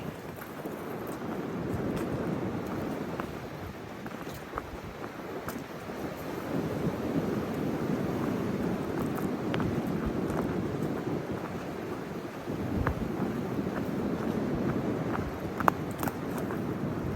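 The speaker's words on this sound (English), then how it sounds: "The wind is just crazy." Strong wind roaring steadily across an outdoor ridge with thunder and lightning about, a constant low rumble and buffeting gusts on the microphone with no voices.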